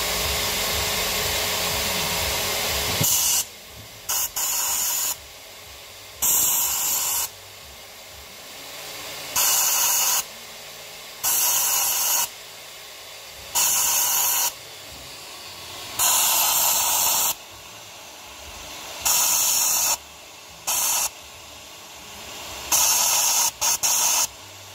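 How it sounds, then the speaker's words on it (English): A media blaster cleaning carbon deposits from Audi S3 intake valves, loud hissing blasts in repeated bursts of a second or two with short quiet gaps between, no speech. "a media blaster. It gets all that lot off and clean them back up to bright metal"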